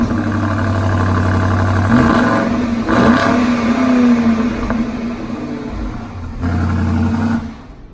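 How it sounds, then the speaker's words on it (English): A 2020 BMW X7 M50i's 8-cylinder engine idles, then revs up and accelerates in loud, sustained surges with a deep throaty tone, easing off and rising again near the end. "523 horsepower, 550 or so pounds of torque from this 8-cylinder engine"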